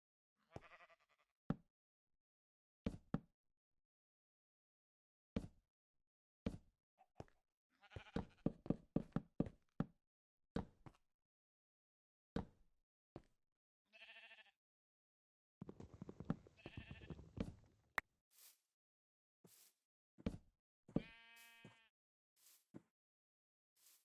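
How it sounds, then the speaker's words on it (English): Sparse clicks and thuds with short bleats of sheep scattered between them, a Minecraft game soundscape with long silent gaps. "Oh, it's the sheep. I was like, what's making that noise?"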